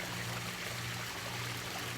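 A homemade backyard waterfall built around a lilac tree, flowing as a steady, close, even wash of falling water with a constant low hum beneath it.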